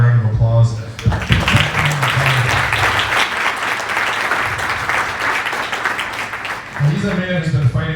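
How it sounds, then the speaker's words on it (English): A campaign town hall crowd in Iowa breaks into loud applause after a short burst of someone speaking, the clapping holding steady for several seconds before his voice returns at the end. "I just want to give Scott a round of applause"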